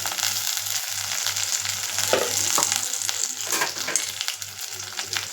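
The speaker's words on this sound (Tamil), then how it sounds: "சின்ன வெங்காயம் போட்டுக்கிறேன். கொஞ்சம் கருவேப்பிலை." Small onions and curry leaves fry in hot oil in a pan, a loud, close, continuous sizzle with occasional stirring scrapes and no voices.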